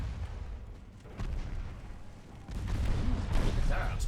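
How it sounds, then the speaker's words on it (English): Warship secondary guns firing on a light cruiser in the naval battle game Ultimate Admiral Dreadnoughts, a low rumbling barrage of repeated booms that swells louder toward the end, with faint talk underneath. "my secondary is ripping into this light cruiser"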